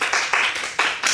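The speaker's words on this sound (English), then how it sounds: "Why do you applaud for this thievery?" A few people clap briefly in a small room, five or six sharp, loose-rhythmed hand claps close to the microphone.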